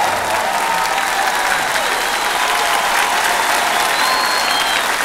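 A concert audience at a live show in 2010 applauds in a steady, dense wash of clapping that stays even from start to finish, with a faint crowd murmur mixed in.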